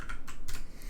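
A few quick keystrokes tap on a computer keyboard at a Linux desk, close and soft, with no voices.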